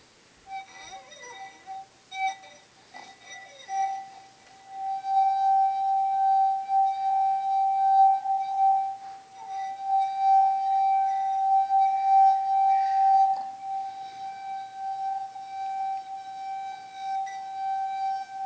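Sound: wet finger rubbing glass rim

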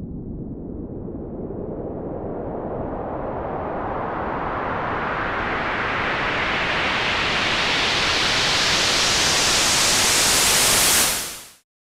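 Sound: white noise build-up from analog instrument and auto filter

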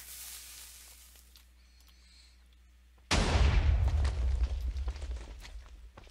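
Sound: TNT cannon firing in Minecraft video game

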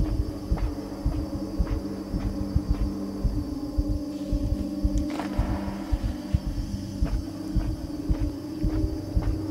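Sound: heartbeat sound in the video game Inside

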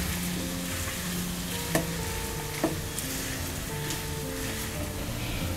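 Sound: boiled mashed potatoes being stirred in a pan

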